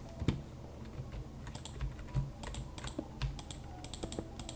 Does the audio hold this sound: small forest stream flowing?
no